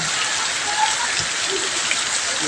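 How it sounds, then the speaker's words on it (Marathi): Steady first-of-season monsoon rain pours down on a farm in a dense, even hiss of drops striking surfaces, close and continuous with no voices. "आपण आता पावसात फिरणार आहोत पाणी पाणी झालेलं आहे सगळीकडं"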